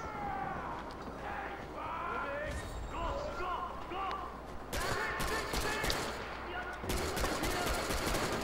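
Rifle gunfire in Far Cry cracks out in short bursts during the second half, loud and sharp over game ambience, with people talking during the earlier part.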